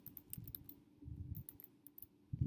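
Someone types on a computer keyboard, a quiet, close series of light key clicks in uneven bursts with short pauses between, and no voices.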